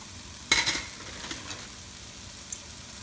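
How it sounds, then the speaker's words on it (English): Shrimp paste stir-fried with cooked tomatoes in a pan for fried rice: a sharp scraping clatter of the spatula, then a few softer stirs over a low, steady sizzle, close and without talking. "So this is time to add our shrimp paste."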